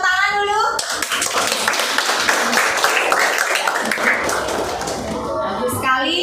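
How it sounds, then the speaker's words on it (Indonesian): A classroom of students bursts into brisk, rapid hand clapping after a teacher's prompt, a dense sustained patter that tapers near the end, with a voice speaking briefly before and after. "Ya, beri tepuk tangan dulu."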